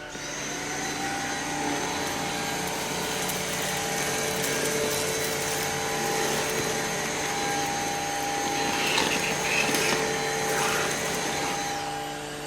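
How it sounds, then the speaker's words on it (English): A cordless vacuum cleaner runs steadily with a high whine, with brief rattles and crackles as sprinkles get sucked up. "we'll see which vacuum picks it up the best, the Dyson or the UWANT."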